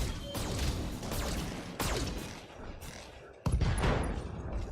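A mech in the Battletech game fires a combined volley of medium lasers and two AC2 autocannons, giving dense, loud crashing blasts and whooshing sweeps, with a sharp new impact partway through.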